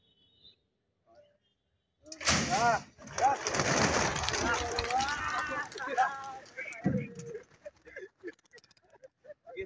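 Racing pigeons released at a pigeon club race in Dinajpur burst into a loud flurry of flapping wings, with excited voices and shouting throughout.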